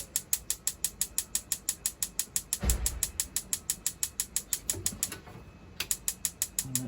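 Rapid, evenly spaced clicking of an igniter on the gas grill in a Benimar motorhome, a long rhythmic train of sharp ticks with a brief muffled thump partway through and a short pause near the end.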